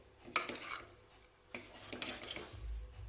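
Mutton being stirred and tossed with red chili powder, turmeric and salt for Kolhapuri mutton pickle, giving a few soft scraping and clinking strokes of a spoon against the pot, close and quiet, with a low rumble near the end.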